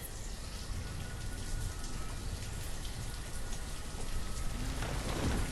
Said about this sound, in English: We're back in the rainy season, I guess.